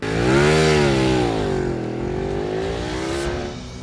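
A Ducati 1199 Panigale S sport motorcycle engine revs hard on the throttle, one loud, close rising howl that sweeps up and eases back down in pitch, then holds a sustained high-pitched wail before fading slightly, with no talk.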